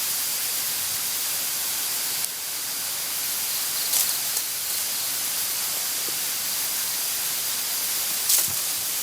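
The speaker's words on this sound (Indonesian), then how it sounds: "Wah, anginnya kenceng banget nih." Strong wind rushing steadily through trees at night near a small bridge, a dense broadband roar holding level throughout with a few brief gusty bursts and faint rustles.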